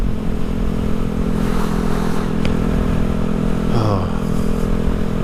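A Honda Grom motorcycle ridden on a hot day hums steadily up close under constant wind rush, and a brief rising engine note sweeps up near the end.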